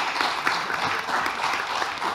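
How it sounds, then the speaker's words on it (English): An audience claps steadily for student election candidates at a campus gathering, with a dense, even patter of many hands that carries on without pause for a couple of seconds. "I think it would be great to give all the candidates a round of applause again"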